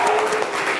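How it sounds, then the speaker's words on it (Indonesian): Applause breaks out for a student in an Indonesian teacher-training classroom, a short burst of steady clapping from a group of people. "Tepuk tangan Kanggo Josia."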